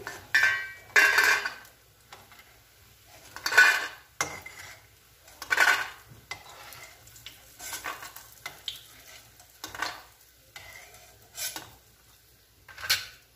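Fried badi, a lentil dumpling, being lifted from a pan onto a plate; a series of separate metal utensil clinks and scrapes comes in short bursts, with faint frying sizzle between them and no talking.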